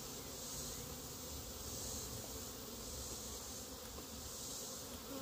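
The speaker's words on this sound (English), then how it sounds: "There's so many bees in here" A hive packed with honey bees during a powdered-sugar treatment gives off a dense, continuous buzz. The hum is steady and fairly soft, with no voices.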